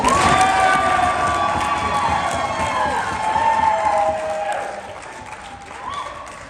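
Wedding guests clap and cheer loudly during a speech, with scattered shouts and whistles, the applause gradually fading out over several seconds.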